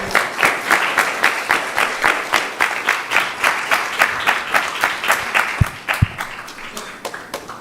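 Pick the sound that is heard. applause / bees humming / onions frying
applause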